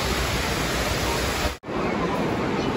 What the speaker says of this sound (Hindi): ये दुबई मॉल के अंदर ये वाटरफॉल है